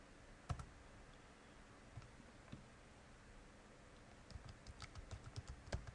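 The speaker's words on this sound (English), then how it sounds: "And just type in a couple things." A short stretch of typing on a computer keyboard, with a few isolated clicks followed by a quick run of close keystrokes over faint background hiss.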